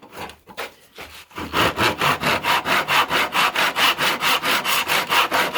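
A handsaw cuts a miter angle through a wooden leg piece by hand, settling after a few tentative strokes into a steady, loud back-and-forth rasp of regular, evenly spaced strokes.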